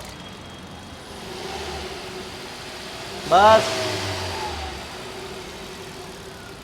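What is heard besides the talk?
car engine revving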